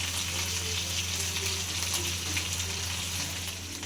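Fish sizzling as it fries in a pan on a home stove, a steady, even hiss running close and continuous throughout with no talking.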